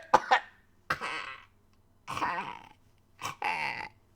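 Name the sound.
person coughing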